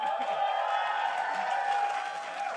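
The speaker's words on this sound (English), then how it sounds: "People should be applauding you" Crowd at a League of Legends LCS esports match cheering and applauding players on stage, a steady dense wash of claps and voices at moderate level without pauses.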